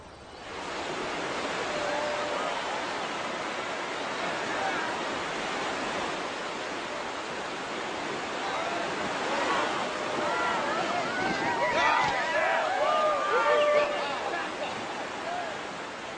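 Rushing whitewater of the Cache La Poudre River near Fort Collins, Colorado, a broad steady roar of rapids with faint voices and splashes rising briefly above it.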